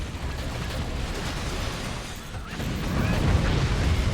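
Missiles striking and flak guns firing in the physics strategy game Forts, a dense continuous rumble of blasts and bursts with a louder surge of impacts toward the end.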